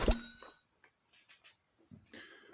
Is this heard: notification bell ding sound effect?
yes